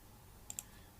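Computer mouse clicked twice in quick succession, two short, crisp, faint clicks close by against a quiet background.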